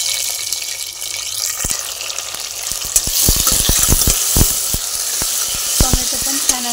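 Tomato sautéing with browned onion in a pan, a steady close sizzle with a burst of sharp stirring clatters and scraping clicks partway through.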